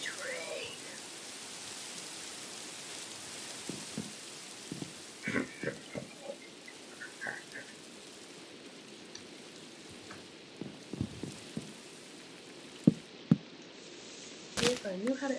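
Rain falls outdoors as a soft, continuous patter, broken by scattered knocks, clatters and brief voice-like sounds.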